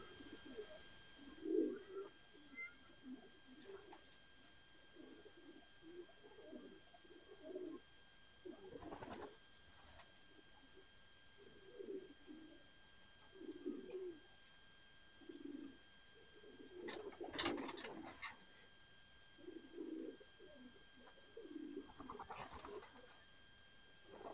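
Pigeons in a loft coo repeatedly in soft, low, rounded phrases spaced a second or two apart, with occasional wing flutters and rustles, fairly close and quiet, with no talking.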